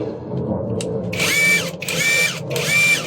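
Cheap AliExpress cordless impact wrench with a socket fitted, three short bursts of a whirring, hammering drive with a spin-up and wind-down each time, close and loud over a quiet background.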